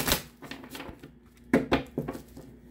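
Cards being shuffled in a few quick riffling bursts, close by, with short pauses between them and no talking.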